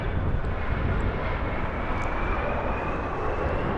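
A SkyWest Embraer E175 jet arrives at Los Angeles International Airport, its engines a loud, steady broadband roar that holds without a break.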